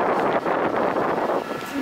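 Strong wind gusting across an outdoor hotel pool area in Las Vegas, a loud rushing roar buffeting the microphone, swelling and dipping over a couple of seconds.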